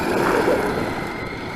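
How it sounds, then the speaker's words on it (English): Wind gusts outdoors on a windy day at a remote-control car session, a brief steady rush of wind noise buffeting the microphone, fairly loud and continuous with nothing else clearly heard. "There's a little bit of wind kicking in here"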